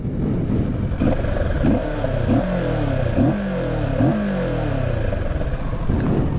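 A Kawasaki Ninja 650 motorcycle engine with stock exhaust revs up repeatedly in short bursts over a steady idle, close by, with no talking.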